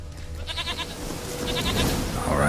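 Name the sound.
goat bleating in video game The Witcher 3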